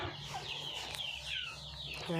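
A laying hen clucks and calls close by in a backyard chicken coop, a series of rising drawn-out squawks and short clucks filling the brief moment.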